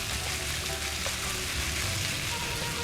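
Boneless chicken fries in a handi pot with a steady, even sizzle and soft crackle throughout, moderately loud and with no one talking.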